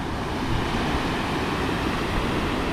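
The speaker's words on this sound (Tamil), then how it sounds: "இங்கே ஃபால்ஸோட சவுண்டு சூப்பராக இருக்குது." Jog Falls, a large waterfall fed by water released from a dam, gives a steady, dense roar of falling water that holds at an even, loud level throughout with no break and no voices.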